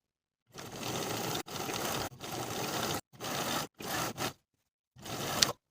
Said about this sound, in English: we'll sew them in place all the way around with a 3/8 inch seam allowance